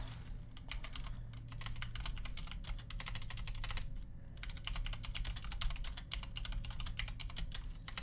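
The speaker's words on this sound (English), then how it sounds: "I'm trying to type on a keyboard, a mechanical keyboard." Rapid typing on a mechanical keyboard, a dense stream of crisp key clicks close to the microphone with a brief pause partway through, over a faint steady low hum.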